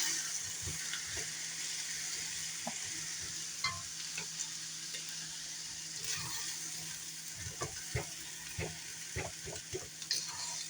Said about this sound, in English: Okay, start mixing it all together.